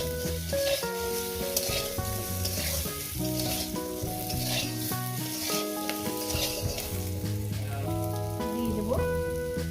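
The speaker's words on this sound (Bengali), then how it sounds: "ভেজে নিয়ে বেগুনটাকে দেখতে বন্ধুরা, আলু বেগুনটাকে কীভাবে ভেজে নিচ্ছি।" Potato and eggplant frying in oil for a rohu fish curry, a dense, loud, rain-like sizzle running continuously up close, with faint tonal sounds underneath.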